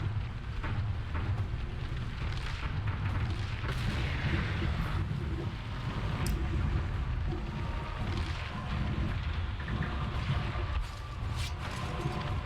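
Grenades explode against Sadler in the Resident Evil 4 boss fight: a dense, continuous roar of deep blasts and rumbling impacts with crackling bursts layered on top, loud throughout.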